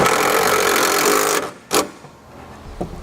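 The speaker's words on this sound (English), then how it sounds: "I'm going to take some self-tapping screws and I'm going to screw this right down into that plate" Power driver sinking self-tapping screws into a metal plate while mounting a braking system on a 2007 GMC Sierra, a loud steady whir that cuts off abruptly, followed by a sharp click and a faint knock.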